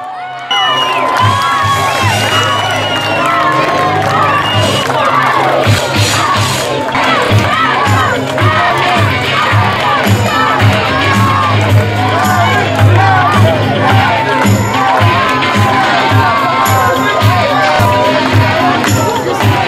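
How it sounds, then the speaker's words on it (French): A large crowd in Chanteloup cheers and chants for the boxer Tony Yoka, a dense, continuous roar of many voices with shouts and whoops rising throughout, loud and close. "Et à force de l'attendre et de crier Tony, Tony, le héros de Chanteloup est arrivé"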